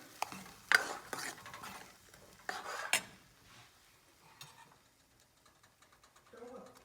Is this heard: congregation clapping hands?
no